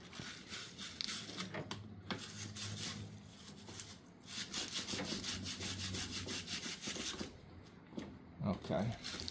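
Half-inch copper pipe being scrubbed clean before soldering, with rough, repetitive rubbing and scraping strokes in bursts, close by, with brief gaps and occasional handling noise.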